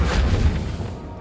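A Reparo spell cast in Hogwarts Legacy lands as a single deep, booming burst that rolls off into a fading low rumble within about a second.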